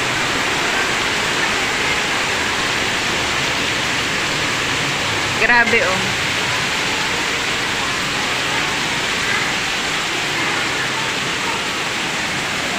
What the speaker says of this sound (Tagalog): Lakas na naman ang ulan, oh.